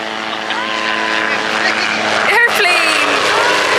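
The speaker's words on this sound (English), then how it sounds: "Oh, helicopter." A helicopter flies over a Hawaiian beach, a loud steady engine and rotor drone that swells slightly as it passes, with people talking over it.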